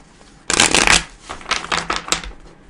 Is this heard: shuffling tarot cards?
yes